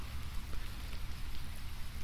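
Steady rain in the video game Dead Island falls as a dense, continuous hiss with a low rumble underneath, heard on its own at fairly low level.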